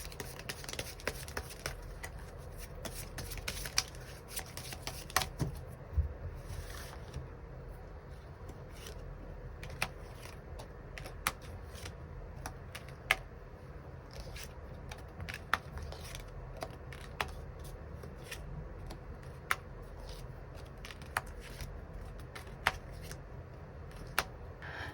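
Tarot cards being shuffled to draw an extra card, heard as a steady, soft papery riffling and tapping with frequent small snaps, close and quiet, with no talking.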